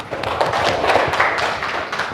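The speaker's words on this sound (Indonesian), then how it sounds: "tepuk tangan dulu untuk Rehan" A classroom audience applauds a student named Rehan, a dense burst of steady close clapping lasting a couple of seconds.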